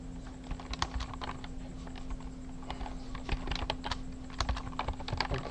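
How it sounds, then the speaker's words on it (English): Fingers typing code on a computer keyboard, rapid irregular clicks of keystrokes over a low steady hum, fairly close and unaccompanied by speech. "and I'll just type"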